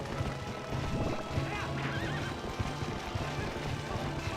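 A horse in The Legend of Zelda: Twilight Princess HD whinnies with a rising, wavering call over a steady galloping hoof rhythm, accompanied by a continuous game soundtrack.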